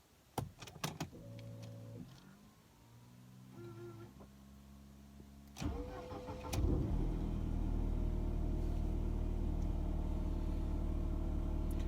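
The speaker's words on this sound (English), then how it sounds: "this is that M111 engine, you know, pushing out just about 100 horsepower" A Mercedes-Benz W202 with the M111 engine cranks and starts with a rising whir, then settles into a steady, low idle rumble at fast cold idle, close and alone, after earlier clicks and a brief motor whine.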